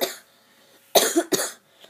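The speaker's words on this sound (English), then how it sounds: "Sorry that I keep on coughing a lot too." A person with a cold coughs twice in quick succession, close and loud, with a faint rasp trailing after, against an otherwise quiet room.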